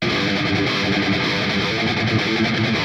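Thick, heavily distorted trap metal electric guitars, layered left and right, roar in a dense, sustained wall of sound, loud and continuous with layered tones and no voices.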